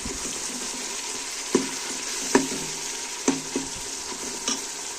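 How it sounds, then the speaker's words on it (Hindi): Tomatoes and masala for a mustard-oil turnip mutton curry fry in a pan with a steady close sizzle. Several distinct spoon knocks and scrapes come at irregular intervals as the mixture is stirred. "अब मैं देखूंगी टमाटरों को मसाला अच्छी तरह भून के फिर इसमें डालूंगी मैं"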